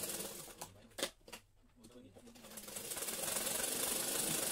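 A sewing machine stitches a katori blouse, its needle running in a fast steady whir that builds and holds near the end after a few brief handling knocks and pauses.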